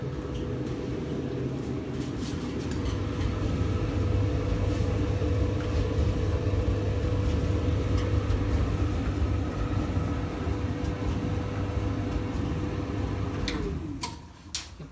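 A Whirlpool clothes dryer runs steadily after a motor replacement, giving a continuous low mechanical hum and rumble with faint ticking. It stays at an even loudness for most of the stretch, then drops off abruptly near the end.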